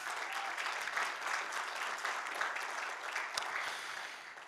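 An audience at an evening church conference session claps steadily throughout, a dense sustained applause that fades slightly toward the end.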